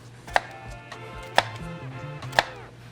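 A knife dicing an onion on a cutting board for bouillabaisse, three sharp, evenly spaced chops about a second apart, close and crisp with no talking.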